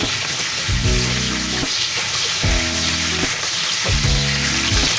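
Boneless milkfish frying in a pan with oil, a steady close sizzle throughout, while music with a repeating bass-heavy pattern plays along in the background.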